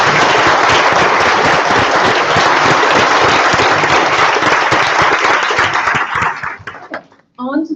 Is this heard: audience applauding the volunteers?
yes